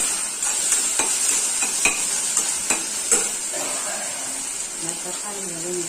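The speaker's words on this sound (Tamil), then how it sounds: "இப்ப வெங்காயம் போட்டு நல்லா வதங்கிடுச்சு, தக்காளி போட்டுட்டாங்க." Onions and tomatoes sautéing in a pan for chicken gravy, a steady loud sizzle with several sharp scrapes and clicks from stirring.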